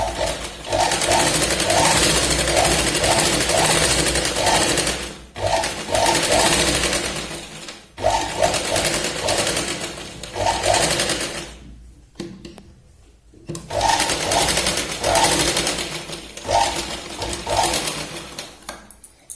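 A sewing machine runs straight stitching on a Katori blouse, loud, rapid mechanical rattling in long bursts with brief pauses and one longer stop before resuming.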